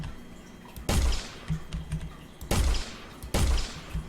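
Gunfire in an Unreal Engine 4 game test, shooting at an aircraft's wings: several loud, sharp bursts spaced about a second apart, with quieter single shots between them and no talking.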